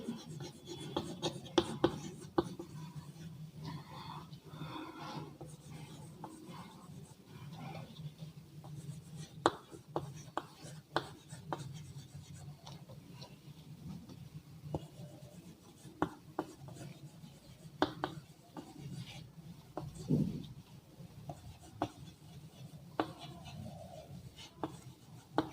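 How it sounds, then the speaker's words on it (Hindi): A pen scratches and rubs across paper in quick, faint strokes as an example sentence is written out, with quiet room tone and occasional taps. "सबसे पहले एक एग्जांपल लिखेंगे।"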